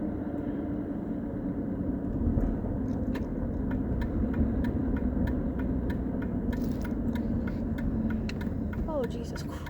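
A car drives and takes a turn, its engine a steady low rumble close by with a faint repeated ticking above it, and a person talks over the noise.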